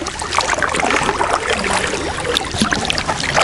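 A kayak paddles out of the Sudost onto the Desna river, steady close splashing and water churning against the hull, dense and continuous without pauses, with no talking.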